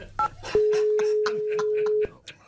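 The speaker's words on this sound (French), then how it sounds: "Ok Brigitte, j'appelle Philippe Bouvard." Electronic telephone keypad tones sound as a number is dialed: a brief two-tone beep, then one long steady tone of about a second and a half, with a voice briefly at the edges.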